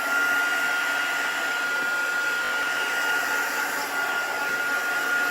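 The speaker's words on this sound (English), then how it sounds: "I might need to give it a little once over with the heat tool." Handheld craft heat tool blowing hot air over wet stamping ink on paper, a loud continuous fan roar with a steady high whine that holds evenly throughout.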